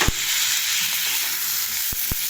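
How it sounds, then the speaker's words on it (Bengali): Figs fry in a pan for a fig curry, giving a steady, close sizzle with a few soft knocks of stirring and no talk. "এরপর আমি ডুমুরগুলো দিয়ে দিলাম,"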